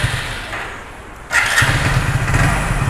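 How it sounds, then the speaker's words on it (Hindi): A Hero Splendor Plus motorcycle, 2022 silver model, starts up with a thump and then settles into a steady low mid-pitched idle, close and fairly loud after a quieter lead-in. "जैसे कि हम बाइक को स्टार्ट करते हैं"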